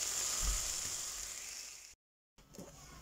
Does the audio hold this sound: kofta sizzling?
yes